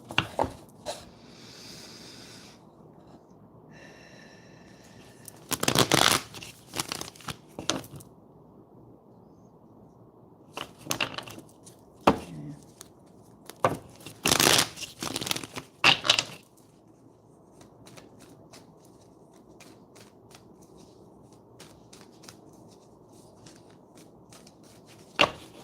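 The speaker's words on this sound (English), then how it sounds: "All right. Let me shuffle." Bursts of tarot cards being shuffled, riffled and tapped in irregular clusters, close and crisp, separated by quieter pauses.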